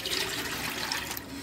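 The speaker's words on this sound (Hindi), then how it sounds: "तो मैं इसमें 3 कटोरी पानी डाल देती हूँ।" Water is poured into a pressure cooker holding toor dal, a steady close gushing splash lasting about a second and a half with no talking.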